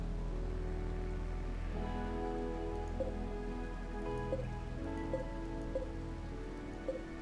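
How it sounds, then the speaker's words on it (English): Faint, steady rain falling in the video game Rimworld, a soft continuous hiss with occasional light drips over a low background hum, no voices. "And it's raining again."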